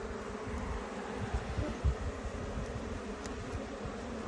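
Honey bees buzz through a backyard hive inspection, a faint, steady insect drone with soft handling rustles and a few small bumps close by.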